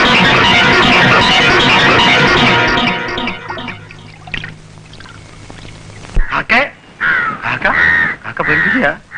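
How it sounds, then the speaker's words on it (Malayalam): Crows caw in a series of harsh calls after a stretch of loud pouring or rushing noise, close and fairly loud. "കാക്കേ"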